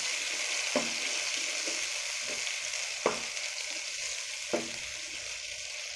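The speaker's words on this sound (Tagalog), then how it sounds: "Sunod na rin natin yung ating corned beef. Haluin lang natin." Corned beef is stirred in a frying pan, giving a continuous soft sizzle broken by three scraping spatula strokes, close and without voices.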